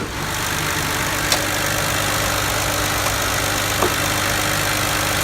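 A 3.0-liter V6 engine in a 2008 Mercury Milan idles steadily and quietly, a smooth continuous hum with faint ticks now and then, no voices.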